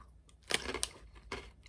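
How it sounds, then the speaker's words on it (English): Corn chips from an UTZ snack variety pack crunched close to the mouth, a few sharp, brittle crunching bites at an uneven pace with quiet pauses between them. "Oh god, that's crunchy."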